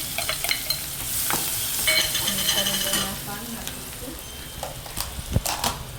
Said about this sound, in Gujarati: પાન નાખીશું અને થોડી વાર ડુંગળીને સાતળવા દઈશું, ફ્રાય થવા દઈશું.